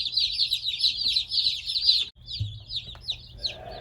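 Newly arrived broiler chicks from a hatchery keep up a steady chorus of high, rapid peeping at close range, with a brief pause and a soft low bump partway through.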